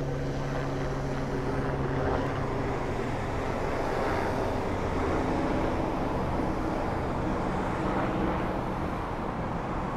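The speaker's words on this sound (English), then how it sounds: "Yes, Susie, that's a helicopter right there." A helicopter flies overhead above city streets in Los Angeles, giving a loud, steady rotor drone that fills the whole stretch without a break.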